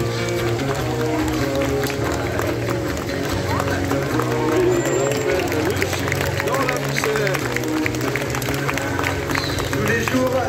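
An audience at a sea lion show claps in a dense, steady patter that carries on throughout, with crowd noise and a voice talking over it.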